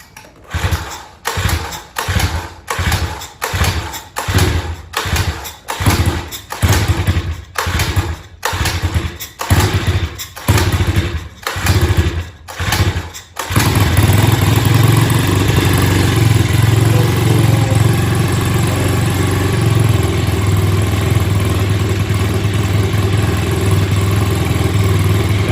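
A SYXMoto VK 58cc kids' dirt bike engine is cranked with rapid rhythmic pulls for about thirteen seconds, then fires and settles into a steady, loud, close idle; no talking.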